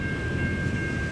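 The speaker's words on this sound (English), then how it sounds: "NS 234 headed east" Norfolk Southern NS 234 freight train heading east, a loud continuous rumble of rolling railcars close by, with a steady high whine running through it.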